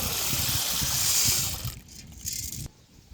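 Urad dal, part of a 35 kg batch, is swished in water, giving a continuous sloshing, gushing sound that drops away, then briefly returns before fading.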